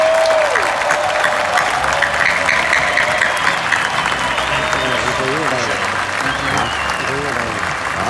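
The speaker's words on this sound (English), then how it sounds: "Let's give another round of applause" A large arena crowd at a convention in Dallas's American Airlines Center applauds loudly and continuously, with cheering and a voice talking over the clapping.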